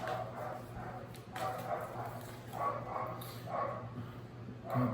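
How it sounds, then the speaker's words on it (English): Dogs bark repeatedly in the background, several rough yapping bursts spread across the clip over a steady low hum, with no talking. "God, freaking dogs."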